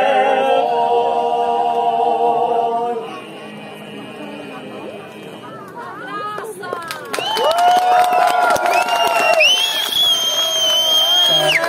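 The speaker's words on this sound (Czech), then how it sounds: "Velký potlesk" A crowd breaks into cheering and clapping, with shouts rising over a busy burst of applause after an earlier stretch of tonal sound.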